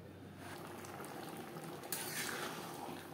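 Snake gourd and lentils simmering in a covered pan over a low gas flame, a steady soft bubbling hiss that swells slightly toward the end, faint and continuous.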